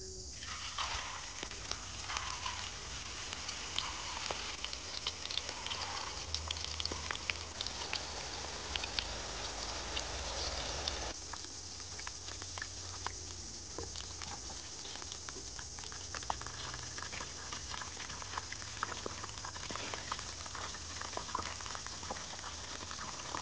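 Small Gilan-style green shami patties fry in hot oil with a steady, crackling patter that holds at a low, even level throughout, without any talking.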